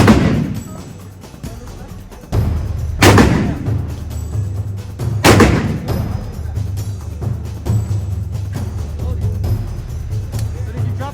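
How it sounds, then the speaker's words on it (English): Gunshots at a gun range: several loud, booming shots spaced a few seconds apart, each with a heavy echoing tail, and voices faintly in the background. "It's going to shoot."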